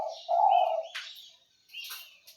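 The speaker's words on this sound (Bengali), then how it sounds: "এখন বাইরে থেকে তিলাকুকু এসে ডাকাডাকি করতেছে" A spotted dove calls outdoors with a few close, clear coos and chirps in two short bursts separated by a brief pause.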